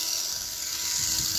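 A Tamiya mini 4WD toy car's small electric motor switched on, a steady high-pitched whine close by that runs through the whole short moment without talking.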